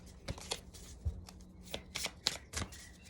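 Tarot or oracle cards are shuffled by hand for a reading, a quick series of soft riffling flicks and taps, close and quiet.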